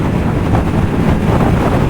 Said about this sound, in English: A little bit blustery today, and the showers have been on and off.